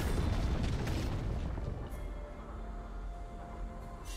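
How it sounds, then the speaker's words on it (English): Turret destroyed in League of Legends, a deep booming explosion with a crumbling rumble that fades into a lower, lingering mechanical drone and faint game sounds. "Red team's turret has been destroyed."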